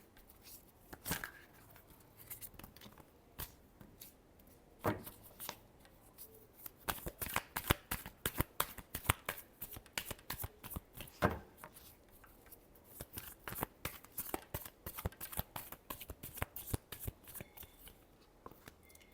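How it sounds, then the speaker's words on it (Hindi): Tarot cards being shuffled by hand, with quick repeated riffling bursts of crisp paper flicks and slaps in an uneven rhythm, close and fairly quiet, with no talking. "Last shuffle."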